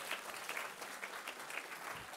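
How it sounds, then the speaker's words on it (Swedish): Audience applause at a talk on critical thinking, a short burst of steady clapping from a seated group, fairly faint and even throughout. "En applåd till er allihopa."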